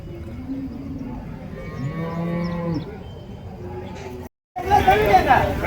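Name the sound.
native cows mooing at a cattle market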